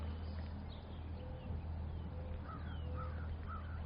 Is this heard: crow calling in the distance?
yes